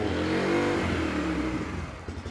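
Bajaj Freedom 125 motorcycle engine catching on the first try and settling into a steady, loud idle with a low throbbing rumble, close by, fading slightly at the end.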